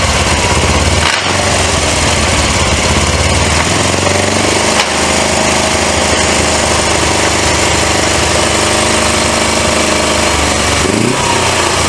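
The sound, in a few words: 1980s Suzuki GS 450A motorcycle engine running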